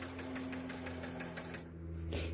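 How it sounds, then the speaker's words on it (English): A sublimation printer runs a maintenance cycle, making a quiet, steady mechanical whir with a rapid rhythmic clatter and a constant low hum, heard alone throughout. "my printer decided it wants to do maintenance"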